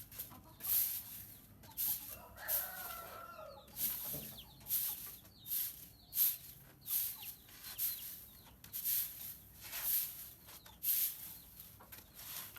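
Chickens clucking as they are fed grain outdoors: repeated soft, rhythmic clucks and murmurs from a small flock nearby, with faint higher calls mixed in.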